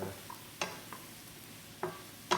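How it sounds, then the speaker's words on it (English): Portobello mushrooms sautéing in a pan with a low, steady sizzle, punctuated by a few sharp clinks and scrapes of a utensil stirring and turning them, heard close and alone. "I'm going to saute these down a little bit"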